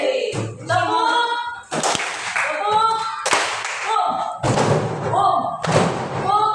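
A group playing an ice-breaker game makes a repeating pattern of heavy thumps and sharp group claps, with loud shouted voices between the beats.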